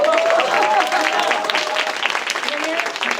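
An audience at a Korean forum talk show breaks into lively applause, a dense and steady burst of clapping lasting a few seconds, with a host's voice faintly under it.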